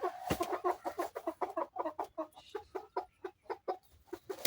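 Hens on a small poultry farm cluck in a rapid, busy chatter of close, repeated calls that keep going throughout, with no talking.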